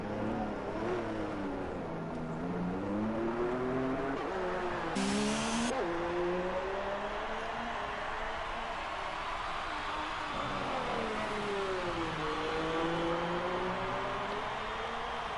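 An F1 car in the F1 2019 game, at the Chinese Grand Prix on PS4, screams along at over 300 km/h, a loud continuous high-revving engine note with brief gear-change dips and a short shift around midway.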